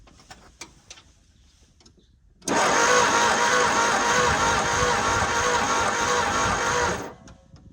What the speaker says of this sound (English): we're gonna turn it over and just get some of that excess gas out of the cylinders